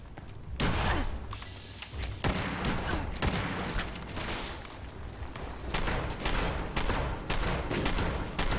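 Rapid gunfire in Fallout 76 during a Steel Reign firefight: dense bursts and single shots crack loud and near almost continuously, with brief lulls between volleys.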